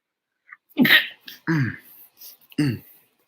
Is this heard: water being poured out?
no